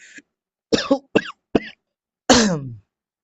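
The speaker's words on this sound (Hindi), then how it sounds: "थोड़ी सी खांसी हो गई है।" A few sharp coughs in quick succession, then a longer, raspier cough after a pause, close and loud against silence.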